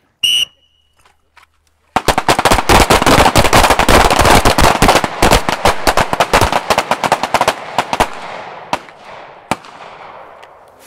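Handgun fire at a shooting-while-moving drill, a brief whistle and then a dense volley of loud, sharp overlapping shots from several shooters that thins to scattered last rounds and echoes.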